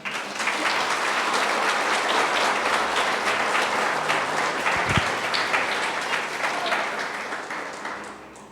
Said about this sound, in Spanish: ¿Por qué no le das un fuerte aplauso?